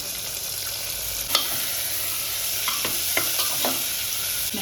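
Oil in a pan with mustard seeds, green chili, onion, tomato and field beans, frying in a loud, dense sizzle with a few stirring scrapes and taps, close by.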